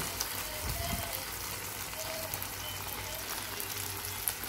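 Ground tomato and garlic paste sizzles loudly as it goes into a hot pan for prawn gravy, a dense steady crackle that carries on throughout, with a brief thump near the start.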